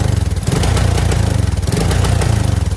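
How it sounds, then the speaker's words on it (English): A Kawasaki KLT250 ATV engine revs hard against the rev limiter with the throttle held open, a loud, steady, close-up mechanical drone that chokes and pulses in a rapid stuttering rhythm, with no talking. "anytime I press on the throttle"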